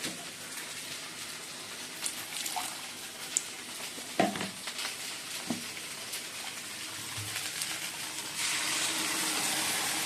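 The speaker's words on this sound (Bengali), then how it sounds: "একটু জল দিতে হবে।" Water poured into a pan of boiled round-cut potato pieces with ground mustard and poppy seed, a steady splashing, trickling wash with a few louder clinks and splashes, close and continuous, turning into a denser hiss toward the end.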